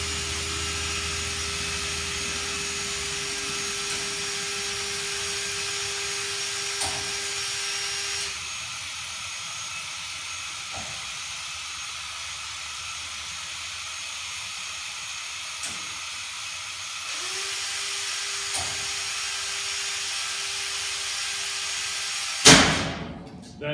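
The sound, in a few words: M393 SCAT waste machine running its wash cycle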